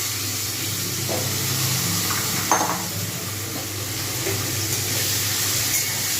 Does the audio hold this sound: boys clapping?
no